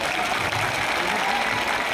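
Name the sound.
audience applause for a singer at a public event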